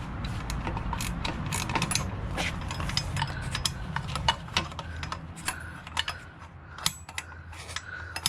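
A wrench ratchets on a turbo bolt of a 2007–2020 Mercedes Sprinter 3.0L diesel, giving a run of close, uneven metallic clicks and ticks against a low mechanical rumble.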